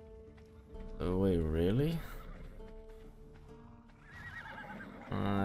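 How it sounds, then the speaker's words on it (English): Horses in the game ARK neigh loudly in two whinnies, with the first one strong and the later one fainter, while someone talks over them in the background. "Pink war horses."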